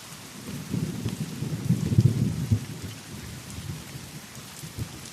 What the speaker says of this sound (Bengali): শুধু ঝমঝম করে বৃষ্টির ফোঁটার শব্দ।